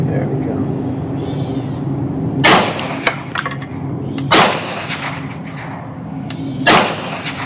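Suppressed shots with 147 grain Winchester ammunition fire at an outdoor range, three loud, sharp cracks spaced a couple of seconds apart over a low background rumble, close to the shooter.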